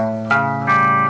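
Two plucked electric guitar notes ring out over a sustained open string, each new attack bright and close, with heavy effects coloring the tone.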